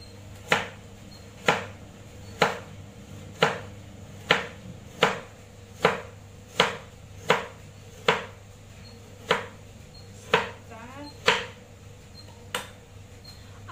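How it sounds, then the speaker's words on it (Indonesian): A knife chops vegetables such as carrot on a board in a kitchen, sharp evenly spaced single cuts about one per second, close and distinct over a low steady hum, with no one speaking. "Biasa kalau saya motong sayur, apalagi itu carrot ya"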